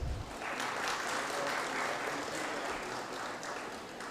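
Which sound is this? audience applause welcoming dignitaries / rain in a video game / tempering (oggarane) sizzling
audience applause welcoming dignitaries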